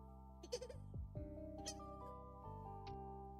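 A person imitates a goat's bleat with their voice, a loud wavering bleat repeated a few times in close succession over a steady background hum, with no talking.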